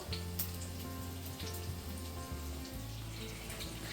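Small pakoras fry in a little oil, a soft steady sizzle with light crackles and a faint hum behind, heard fairly quietly with no talk.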